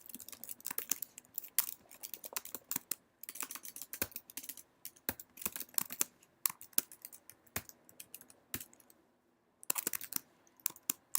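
Rapid typing on a computer keyboard while entering jQuery code, with dense bursts of crisp key clicks, brief pauses between runs, and a short lull before a final flurry.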